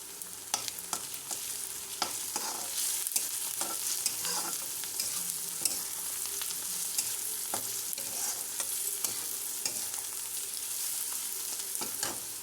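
Turmeric and ginger garlic paste fry in a pan, giving a steady close sizzle, with frequent scraping stirs and clinks of a spoon for the whole stretch; no one speaks.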